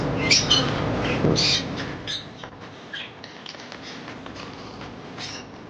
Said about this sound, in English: Look at all of these parrots and macaws and everything that you have here.